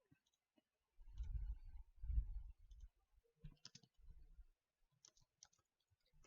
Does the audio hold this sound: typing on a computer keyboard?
yes